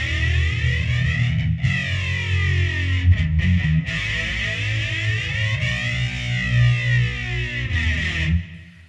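Thin-necked electric guitar played through distortion pedals on a pedalboard, a sustained saturated tone with shifting sweeping harmonics and a few brief breaks, loud and continuous with no talking.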